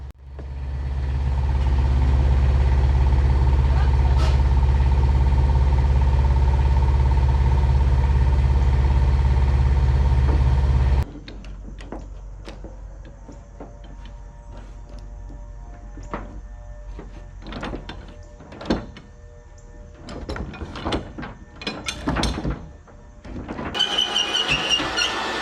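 A tractor loading a white oak log in a log yard drones loudly at close range, then drops to a quieter hum broken by scattered clanks, knocks and thumps as the log is handled.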